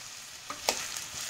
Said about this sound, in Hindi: गैस मैंने फिर ऑन कर ली और प्याज धीमी आँच में पका लेते हैं।